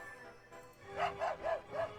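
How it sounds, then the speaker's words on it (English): A dog in the Sherlock Holmes: Nemesis video game gives four quick, close yips or barks in an even rhythm, following a quiet lead-in. "Is that dog coming after me?"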